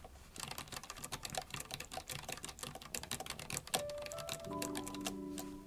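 Keys on a Perixx 535 ergonomic mechanical keyboard with red switches clatter in a fast, steady typing rhythm, close and clear, with no talking over it.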